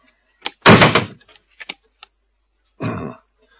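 Heavy metal door of an old elevator slammed shut, one loud close bang with a few small rattles and clicks after it, followed by a second softer thud.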